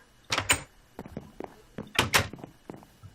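Wooden doors in the Minecraft video game are placed and opened, giving a string of short, hollow knocks and clacks in irregular bursts, fairly quiet and close.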